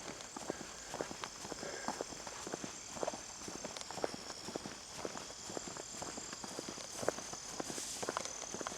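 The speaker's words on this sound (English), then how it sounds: "That bendy noise you hear is my shoes." Shoes crunch along a rail trail past a swamp in a steady walking rhythm of soft, close footsteps over a faint outdoor hush.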